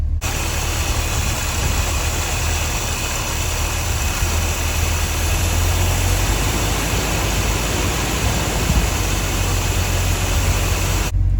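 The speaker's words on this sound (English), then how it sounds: "as you can see, it's perfectly set, 800 RPMs" A car engine fitted with a Holley 1850 carburetor idles smoothly at about 800 RPM, a steady, loud, low rumble that holds constant throughout with no talking.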